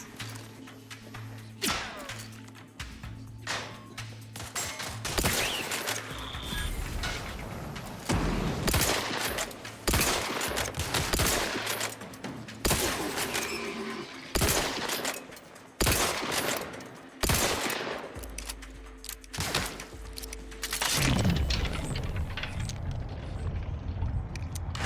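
Gunfire in The Outer Worlds 2, bursts of rapid shots and heavy thuds cracking out repeatedly over a low rumbling bed, loud and close with uneven gaps between volleys.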